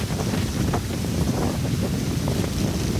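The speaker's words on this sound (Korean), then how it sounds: "사람을 날려버린다는, 집어 던져버린다는 파타고니아의 바람입니다." Strong Patagonian wind in Torres del Paine National Park buffets the microphone with a loud, constant rumbling roar, gusting unevenly and filling the whole stretch with no other sound standing out.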